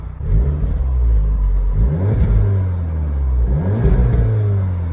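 A deep Mitsubishi Evo X engine rumbles steadily, swelling into two throaty revs with a burbling low tone, close and loud, no voices.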